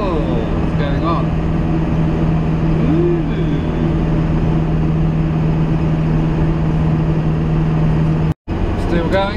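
A vehicle climbs a mountain road behind trucks, its engine a steady loud drone throughout, with a person talking over it.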